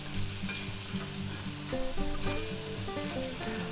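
Onions sizzle and fry in a pan for a vegan burrito, a steady crackling hiss with occasional stirring clinks and scrapes, close and fairly quiet, with no talking.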